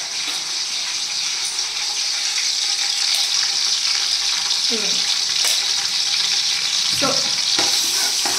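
Ginger-garlic paste fries in oil for mutton biryani, giving a steady broadband sizzle throughout with occasional stirring scrapes and clinks; a voice briefly speaks over it.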